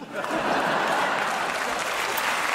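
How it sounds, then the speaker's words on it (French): Audience applause swells in quickly and holds steady, a dense sustained clapping with some crowd murmur beneath. "Là, pareil, toujours à des applaudissements"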